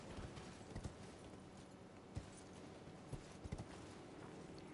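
Faint hooves clip-clop at an irregular pace as a horse is ridden in Elden Ring, sparse scattered hoofbeats over a quiet ambient wash.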